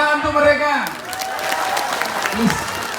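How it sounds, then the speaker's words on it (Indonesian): An audience bursts into applause after a man's brief spoken line, the clapping building into a steady, fairly loud patter that carries on to the end. "Tepuk tangan untuk mereka."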